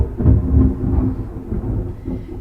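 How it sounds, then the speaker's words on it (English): Low rumbling thunder rolls on for a couple of seconds, swelling early and then lingering at a steady, muffled level with no talk over it. "Wow, there's thunder."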